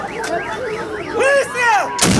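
A loud gunshot-like blast bursts in at the very end, after warbling, siren-like electronic tones that rise and fall rapidly.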